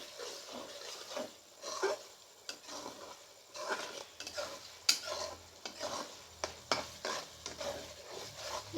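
Onion, ginger, chili and garlic paste frying in butter, stirred with a spatula that scrapes and taps the pan in irregular bursts over a soft sizzle, heard close with no speech.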